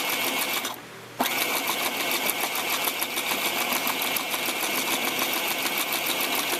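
A sewing machine on low speed stitching fabric for a tutu purse, a steady close mechanical whir with a fast even clatter of the needle that pauses briefly near the start and then runs on without talk.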